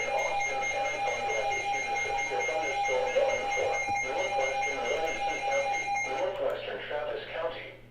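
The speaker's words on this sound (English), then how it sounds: "let's go ahead and let the radio beep the noises" A steady electronic weather alert tone beeps continuously from a radio during severe storms, a constant high pitched warning with a faint hum underneath.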